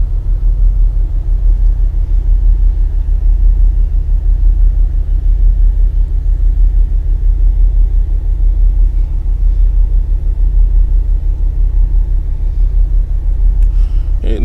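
A Porsche 911 Carrera engine with keyless start rumbles close by in a deep, steady idle that pulses evenly throughout, with no voices.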